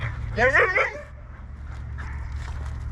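A husky at an Arctic Circle husky park gives a short whining yip and a few soft whimpers before feeding, close by, followed by quieter low sounds.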